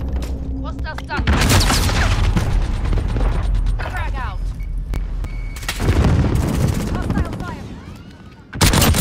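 Loud bursts of gunfire and a frag grenade blast in a Call of Duty: Modern Warfare Warzone match, with sharp repeated shots, a sudden cut to near silence, then fresh heavy firing and a final loud burst.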